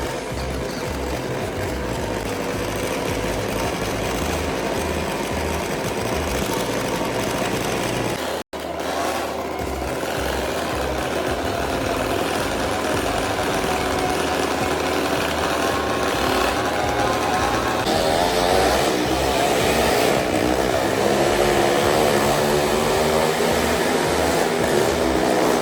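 Motorbikes and cars running in a funfair stunt setup, a dense continuous engine roar with a brief cutout partway through, then rising and shifting revs as the vehicles keep going, with no talking.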